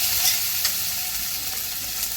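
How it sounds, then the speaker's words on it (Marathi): A thick spice paste sizzles and crackles in a hot pan while being stirred, a continuous close frying sound. "आता हा मसाला आपला इथे परतून झालेला आहे"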